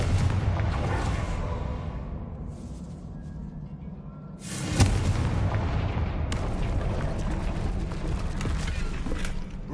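A fiery Confringo spell explosion in Hogwarts Legacy bursts loudly and near amid a dense, rumbling battle din. A sharp blast hits midway and a sustained roar continues after it.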